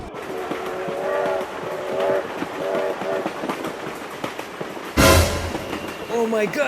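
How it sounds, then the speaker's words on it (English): A train passes in the BeamNG.drive driving game, rumbling wheels and clattering cars under a dense engine roar, with a sharp burst near the end, while people talk excitedly over it. "Oh my God, train!"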